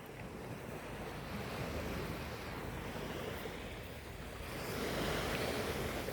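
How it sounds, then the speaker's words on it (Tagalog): Ocean surf washes at the sea in a continuous broadband roar, swelling louder toward the end, with wind buffeting the microphone and no talking. "Ito yung dagat."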